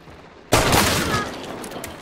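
Video game gunfire bursts in loudly after a short quiet lead-in, a dense fusillade of shots that fades slowly.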